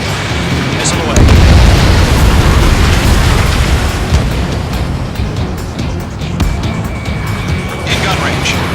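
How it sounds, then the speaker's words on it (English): A missile launch and explosion in the Ace Combat 7: Skies Unknown flight game erupt as a loud, rumbling boom that swells and then dies away over a steady roar of jet noise. "Missile away."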